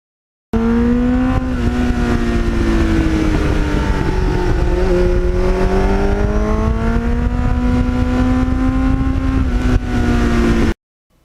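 Kawasaki Ninja motorcycle fitted with a Muzzy muffler, revving loudly and close up for about ten seconds, its engine pitch rising and falling in smooth sweeps before cutting off abruptly.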